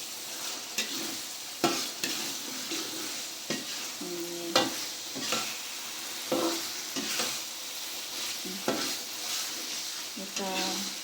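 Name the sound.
stirring sautéed spices with bay leaves, lemongrass, lime leaves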